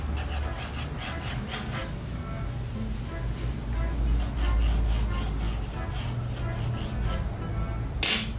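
Graphite pencil drawing a softer line on paper during a light-and-shadow object study, heard as a steady, close, low rasping rub that continues for several seconds without pause.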